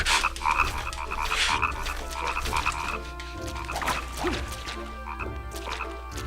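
Frogs croak in a Nightmare Before Christmas: Oogie's Revenge game level, a dense chorus of repeated croaks with thwacking game effects mixed in, steady and fairly loud.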